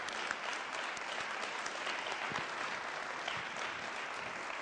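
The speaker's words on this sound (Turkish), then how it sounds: "Süleyman Bey alkışlarla alalım" A studio audience at a televised Turkish start-up idea contest semifinal applauds steadily as Süleyman Bey is called up for the third league award, a dense, even wash of many hands clapping that holds loud throughout.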